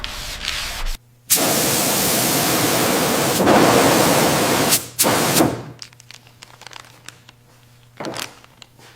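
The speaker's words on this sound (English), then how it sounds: "Sanding again. We need absolute perfection for the paint." Long continuous strokes of sanding against a Buick Skylark car body, a loud gritty rasp that stops and starts, followed by quieter scraping and rubbing as the surface is prepared for paint.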